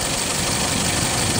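A 2001 Hyundai Elantra GLS with 172,000 miles idles steadily, a continuous close engine hum with faint knocking texture and no voices over it.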